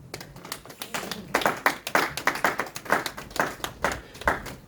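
A church congregation clapping in a steady rhythmic pattern during worship, a dense run of loud, evenly spaced claps filling the space.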